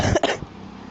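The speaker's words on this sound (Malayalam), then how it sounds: "അതിന് ഈ ചുമയാണ്." A single sharp cough bursts out up close during a Mini Militia mobile gaming session, then fades into quiet room tone.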